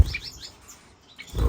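Shaft-tail finches chirping indoors in a bird room, several quick high tweets in the first half and another short burst near the end, fairly close and clear.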